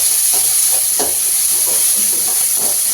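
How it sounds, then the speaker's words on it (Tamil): Small shallots and green chilies sautéing in hot oil in a pan, a loud continuous frying hiss with soft stirring scrapes breaking in every so often. "அதே மாதிரி பச்சை மிளகாய் அந்த எண்ணெயில வதங்கையில அந்த ஒரு தனி டேஸ்ட் கிடைக்கும்"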